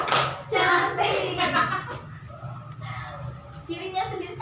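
A group claps hands together in a quick rhythmic pattern, with voices chanting "tepuk cantik" in Indonesian along over the claps.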